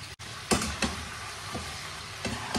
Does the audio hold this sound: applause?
no